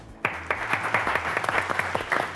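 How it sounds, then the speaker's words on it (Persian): Studio audience on an Afghan TV quiz show breaks into applause, a steady wash of many hands clapping for a couple of seconds without speech. "تشویق؟"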